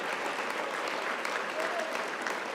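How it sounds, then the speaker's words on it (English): An audience at the Rammy Awards restaurant ceremony breaks into thick, continuous applause, a loud and even wash of many hands clapping together in a big room. "Please join me in a round of applause for all of those who have worked so hard to make tonight possible."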